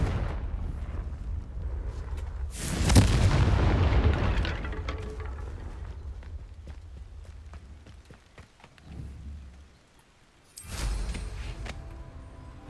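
Confringo blasting spell explosions in the Hogwarts Legacy video game: one strong booming burst with a rumbling tail, later a softer thud and a second sharp blast, set against quiet game ambience.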